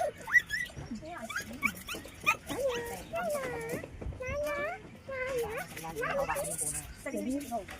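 A dog whimpers and yips in high, whining cries while people talk over it nearby.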